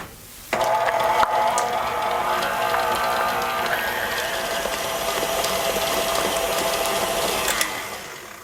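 An electric hand mixer beats condensed milk into a cake batter in a bowl, a steady close whirring drone that starts abruptly and runs without pause to the end, with no talk over it.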